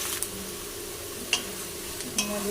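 Chopped onions fry in a pan for mutton curry, a faint, even sizzle with a few isolated utensil clicks against the pan.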